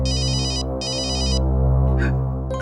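A mobile phone rings with a bright electronic warbling tone in repeated bursts over a steady low hum, close and fairly loud.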